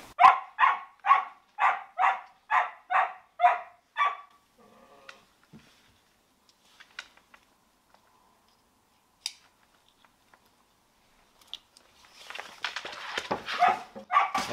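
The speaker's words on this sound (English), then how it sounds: "Stay here, you patient little dogs." Small dogs bark in a steady run of about nine sharp, close yips, then fall quiet apart from faint whimpers and scattered clicks, before rustling and shuffling noises build toward the end.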